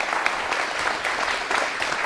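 Steady applause from an audience at a classical music masterclass, a dense, even patter of many hands clapping that holds at a constant level throughout.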